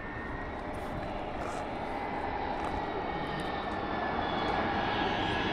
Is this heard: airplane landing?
yes